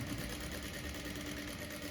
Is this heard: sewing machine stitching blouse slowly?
yes